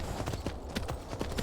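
Horse hooves clip-clop steadily in the video game Skyrim, a run of evenly spaced, fairly close hoofbeats with no talk over them.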